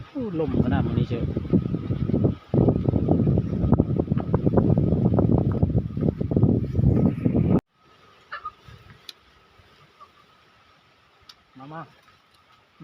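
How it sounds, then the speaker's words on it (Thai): Strong wind at a rice field hut buffets the microphone with loud, gusting rumble for about seven seconds, then cuts abruptly to near quiet with only faint scattered sounds. "ลมขนาดนี้เชียว"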